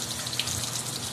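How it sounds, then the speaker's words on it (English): Tap water running steadily into a container to top up laundry pod water, a continuous close splashing rush with no voices. "That was my pod water. I just needed to add more water to it."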